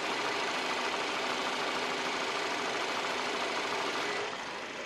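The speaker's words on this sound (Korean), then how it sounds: "바로 엔진 소리 한번 들려드릴게요." A Chevrolet sedan's Ecotec 2.5 engine with 77,000 km on it idles with the hood open, a steady dense rumble heard up close and unbroken, easing slightly at the very end.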